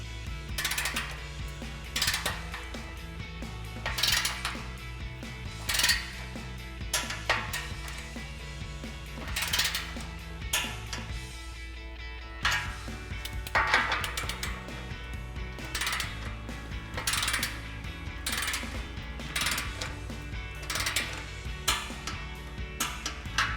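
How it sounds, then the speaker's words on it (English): Torque wrench with a 15mm socket tightening exhaust clamps on a 2022-2024 Toyota Tundra, giving repeated mechanical ratcheting clicks in short bursts, fairly close and steady over a low background hum. "we'll use our torque wrench set to 35 foot-pounds and go back and torque all of our clamps"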